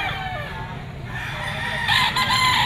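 A young rooster (stag) crows loudly and nearby at a cockfighting derby, giving one long cock-a-doodle-doo with clucking from other fowl around it.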